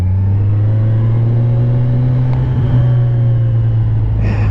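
A Ninja 1000 SX motorcycle cruises at steady speed, its engine a smooth, even low drone under strong rushing wind noise, with a brief burst of buffeting near the end.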